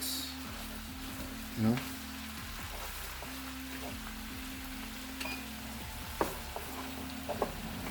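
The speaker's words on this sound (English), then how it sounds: "now you're going to stir it and neatly mix it up" A green chili mixture for lamb kadai is stirred in a pan, with a faint, quiet sizzle and occasional soft scrapes and knocks of the spoon against the pan.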